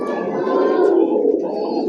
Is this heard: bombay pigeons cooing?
yes